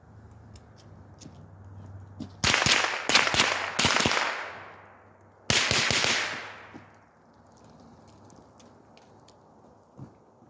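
Two close, sharp bursts of gunfire from a tactical room-clearing drill while slicing the pie around a wall, each a rapid cluster of loud shots with echoing tails, separated by a few seconds of quiet.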